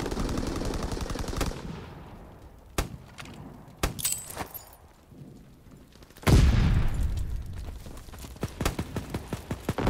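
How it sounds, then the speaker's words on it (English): Naval primary battery gunfire in Call of Duty WWII: several loud, sharp blasts at irregular intervals, with one heavy boom followed by a rumbling tail and rapid crackling shots, over a constant low background din. "Firing primary battery."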